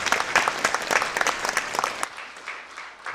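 A church congregation at a Methodist Sunday morning service applauds an elder at a retirement ceremony, brisk and lively clapping that stops abruptly after about two seconds, leaving quiet room sound.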